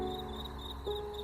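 Crickets chirp steadily at night in a rural province, a continuous high trill with faint wind behind it and no talking.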